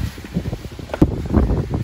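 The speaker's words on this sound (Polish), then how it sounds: "Wiatr wieje, to pewnie i tak ciebie nie słychać." Gusty outdoor wind buffets the microphone at a house-building site, where a foundation is being finished and a deep well dug, giving uneven low rumbling thumps with a stronger gust about midway.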